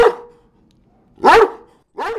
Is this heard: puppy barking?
yes